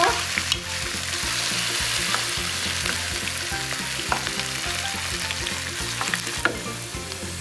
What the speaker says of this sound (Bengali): একই রকমের করে আমি বাকিগুলো ভেজে নিব